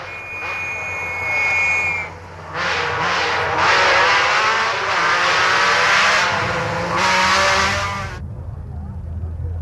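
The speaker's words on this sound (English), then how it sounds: "Cars delivering 420 horsepower from engines bred for rallying." Powerful 1980s rally car engines of about 420 horsepower, four-wheel-drive competition machines, rev and roar loudly for several seconds, falling briefly quiet and then cutting out near the end, with a faint high whine early on.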